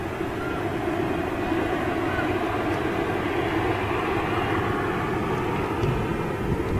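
An EasyJet airliner flies over Manchester Airport, heard as a continuous broad, loud engine roar that holds steady throughout without clear rise or fall.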